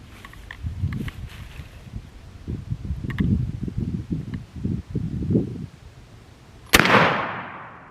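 A shotgun fitted with a turkey choke and shot combination fires one sharp, loud blast near the end, preceded by outdoor rustling and movement.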